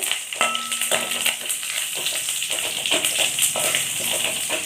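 Curry leaves and dried red chillies crackle and sizzle in hot oil for tempering rasam, with sharp pops and light tapping scattered over a steady frying hiss.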